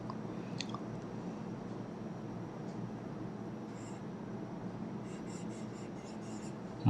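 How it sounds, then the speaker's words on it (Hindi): A pen writes on paper with steady, soft scratching strokes that run close and continuous, plus a few faint clicks. "चलिए वाक्य लिखते हैं।"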